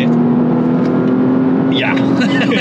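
Porsche Panamera 4S engine pulling hard under acceleration, a steady loud drone heard from inside the cabin with the gearbox shifting down on its own, while people talk over it.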